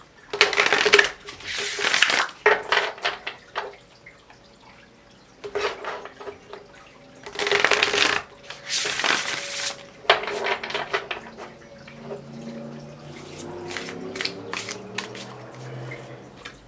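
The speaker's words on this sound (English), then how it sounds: "I just have to keep shuffling." Tarot cards riffle and slap in repeated bursts of shuffling, crisp and close, separated by brief pauses and light clicking handling sounds.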